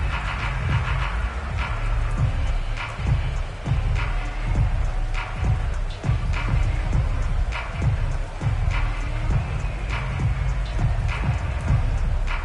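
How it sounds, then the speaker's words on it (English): Steady rain falls on a football stadium in Madden NFL 22, a dense, constant hiss with scattered heavier drops continuing throughout, with no voices. "The rain set to continue as we are underway in the second half."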